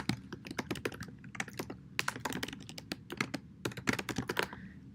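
Computer keyboard typing code, a quick irregular patter of close, crisp key clicks in short runs with brief pauses, no voices.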